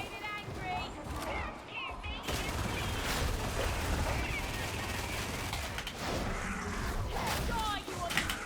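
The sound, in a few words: lasgun shooting at a boss in a video game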